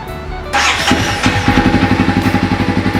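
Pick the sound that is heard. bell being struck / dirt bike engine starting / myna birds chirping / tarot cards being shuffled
dirt bike engine starting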